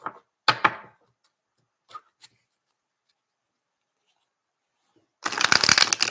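A Robin Wood tarot deck being shuffled by hand: a few short card riffles and taps early on, a long quiet pause, then a loud, dense riffle shuffle close by, with no talking.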